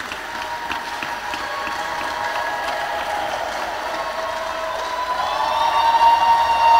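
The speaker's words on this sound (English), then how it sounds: "A round of applause, Aroma of Christ." Applause from a crowd, a steady wash of clapping that swells slightly louder toward the end.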